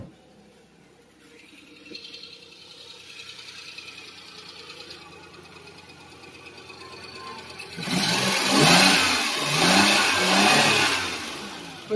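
A car engine revs up hard after running at a low idle, the loud revving swelling in several surges near the end. The car is being checked for overheating.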